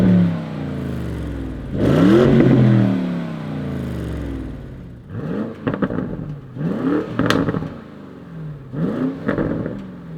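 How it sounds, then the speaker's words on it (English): Porsche Cayenne GTS coupe V8 with performance exhaust revving hard, a loud sweeping rise at first and then three shorter throttle blips spaced a couple of seconds apart, close by and alone. "First, the normal GTS exhaust that we also have at the SUV, and then this special optional performance exhaust."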